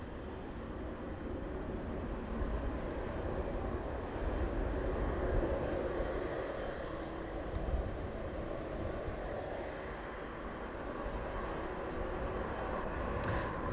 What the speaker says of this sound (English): Now 777 arriving in from Cincinnati, pulling up on stand there.